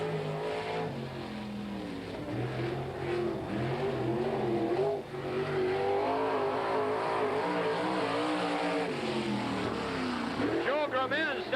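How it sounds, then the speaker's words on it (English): A 1987 World of Outlaws sprint car on its qualifying lap at the Hales Corners half-mile dirt oval roars loudly and continuously, its engine pitch rising and falling with each throttle sweep while an announcer talks over it. "Next to qualify, car number 44, Joe Grumens out of Wheatland, Wisconsin"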